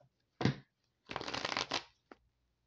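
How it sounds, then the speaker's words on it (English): A tarot card deck is shuffled by hand, a brief riffle burst followed by a longer rapid fluttering shuffle and a final tap, close and clear in a quiet room. "Shuffle real fast."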